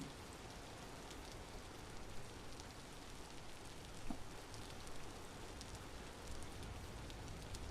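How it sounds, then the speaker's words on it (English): Steady rain falls in the Vintage Story video game, a constant soft hiss of drops on surfaces, faint and even throughout with no voices. "And here comes the rain, our favorite part of this game."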